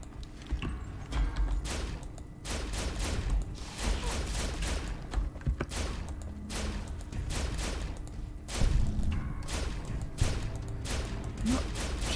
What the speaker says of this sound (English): Let's see how they handle laser weapons.